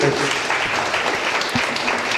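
An audience at a spiritual convention session claps in a steady, dense burst of applause that carries on briefly at even loudness.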